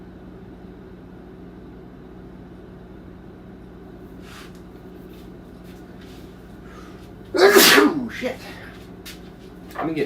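A single sharp sneeze, loud and close, bursting out over a quiet room hum, followed by a brief exclamation from the person.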